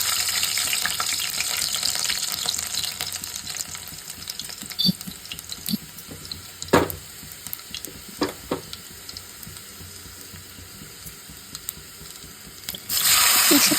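Garlic with mustard seeds frying in hot oil for a tomato masala, a steady close sizzle and hiss with occasional sharp pops and crackles, swelling louder near the end, no voices.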